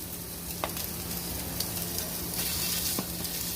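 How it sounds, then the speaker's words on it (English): Johnsonville Italian and sweet sausage sizzles steadily in a hot skillet, a continuous crackling hiss with a few sharper pops, close and without speech. "I'm adding the sausage to my skillet. It's already nice and hot."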